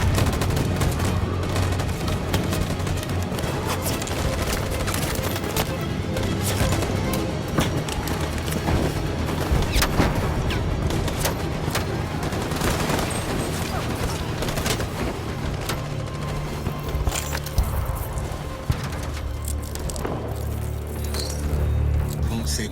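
Soldiers firing guns in the video game Detroit: Become Human, dense sustained fusillade of gunshots and bursts over a rumbling game soundtrack, loud and continuous throughout.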